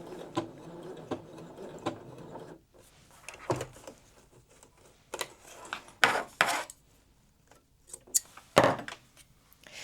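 Sewing machine lock stitching along the edge of a zipper pouch made from leftover quilt blocks, heard as short bursts of mechanical whirring and clicking separated by quiet pauses.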